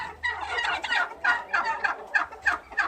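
Domestic turkeys on a home farm gobble in a series of rapid, warbling bursts, about seven or eight calls in quick succession, close and clear with little else around.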